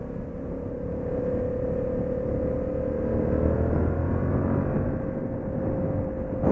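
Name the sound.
Yamaha FZ-07 motorcycle V-twin engine running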